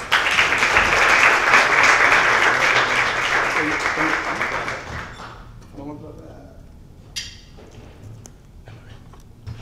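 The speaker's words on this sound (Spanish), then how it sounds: "Pido un fuerte aplauso." A conference audience applauds loudly for a guest lecturer, with dense clapping that swells and then tapers off over about five seconds, leaving scattered faint knocks and shuffles in a quiet room.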